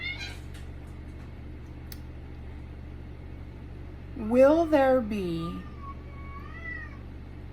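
A cat meows in a long, wavering call of a few seconds, close and clear over a steady low hum, with a person speaking briefly beforehand.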